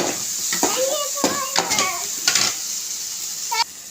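Onions and tomatoes sauté in a pot for a homemade chicken kuzhambu, a steady sizzle punctuated by clanking stirs of a ladle against the metal. A child's and adults' voices speak intermittently over the cooking.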